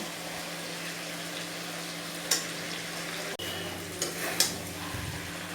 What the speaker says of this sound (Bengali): মাংসটা কষানো আমার হয়ে গিয়েছে তেল একদম ছেড়ে দিয়েছে আর একটুখানি মিশে করে নিই